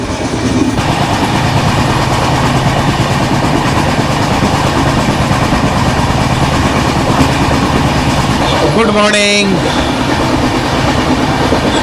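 A New Jalpaiguri to Chennai Central superfast express train rolls along the tracks at over 110 km/h with a loud, continuous rumble and rattle; a person briefly speaks near the end over the noise.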